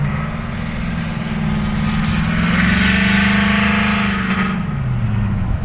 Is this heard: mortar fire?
no